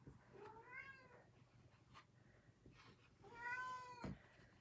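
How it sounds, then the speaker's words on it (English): Two cats meow indoors, first a drawn-out call and then a louder, longer one, clear against a quiet room with no talking. "You guys can hear the cats?"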